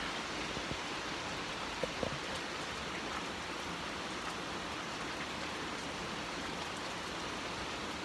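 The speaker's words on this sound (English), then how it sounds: "It's raining pretty hard right now." Rain falls hard and steady, heard from a porch, a constant hiss of drops on surfaces with a couple of faint knocks, no speech.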